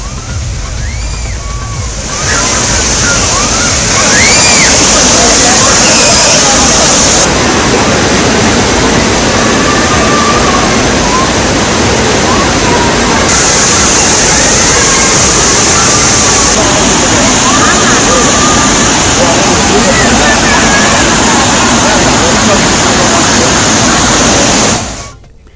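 Hogenakkal waterfall on the Kaveri river roars in a constant, loud rush of falling water, a dense steady wash with faint voices and bird-like chirps mixed in.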